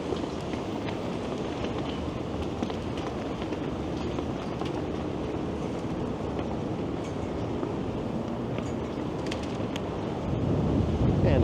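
Strong wind blowing through downtown Toronto along University Avenue at twilight, a continuous loud buffeting roar against the microphone with low rumbling gusts, growing stronger near the end, no voices.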